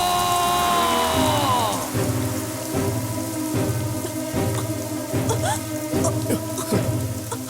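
Steady rain patters in a film scene under a rhythmic musical score with repeating thumps, loud and continuous, with no talk.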